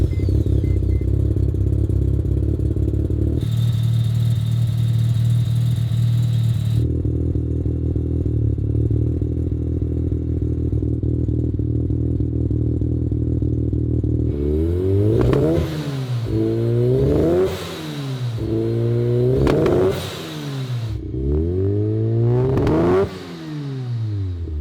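A four-rotor rotary engine in a car idles loudly at a steady, buzzy drone, then revs in several sharp rising-and-falling bursts near the end, close and dominant with no talk.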